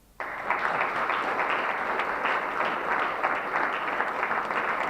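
An audience at a professional conference on safe medicine use breaks into steady applause, a dense, sustained clapping that starts abruptly and holds evenly to the end.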